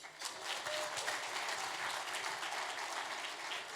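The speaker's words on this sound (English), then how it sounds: "Give every mother in this room a round of applause." Dense, steady audience applause fills a gala dinner room for the mothers present at an Eid celebration, a continuous wash of many hands clapping with no voices over it for nearly four seconds.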